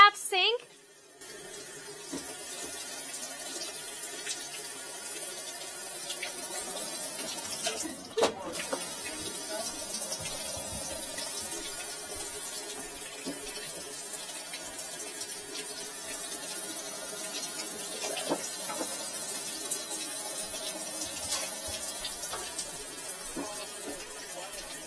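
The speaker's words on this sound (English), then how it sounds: "Scott, you want to run the bath sink?" Water running steadily from a bath sink faucet in a house with a clogged drain, a constant hissing flow that continues throughout at moderate level, with a brief knock early on and faint voices in the background.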